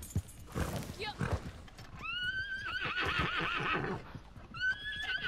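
A horse in Red Dead Redemption 2 gives loud, repeated whinnies and neighs along with clip-clopping hooves during a chaotic fight, while a player talks over it.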